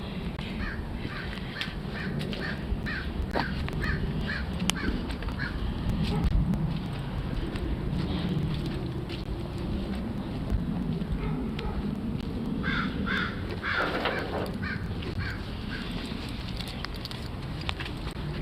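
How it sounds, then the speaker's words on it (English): Crows caw and chatter far away. Scattered calls come now and then over a steady outdoor background hiss, with a short burst of louder activity later on. No one talks. "now all their crow buddies are all kind of chatting with each other off in distance"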